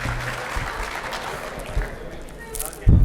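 Audience applause at a mushaira poetry gathering in Sargodha: a brief burst of crowd clapping, moderately loud and continuous, with a voice speaking over it and the claps growing louder at the end.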